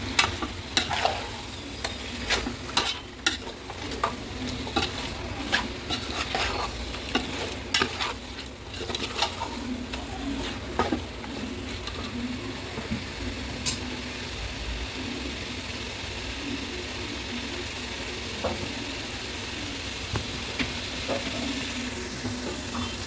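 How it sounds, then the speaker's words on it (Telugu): Chicken coated in masala and salt stirred in a pan for donne biryani, with a continuous sizzle under frequent clicking scrapes of the spoon against the pan, close and steady throughout. "ఇప్పుడు ఒక 3 స్పూన్స్ వేసుకొని బాగా చికెన్కి మసాలా అంతా పట్టేంత వరకు మిక్స్ చేసుకున్నాం"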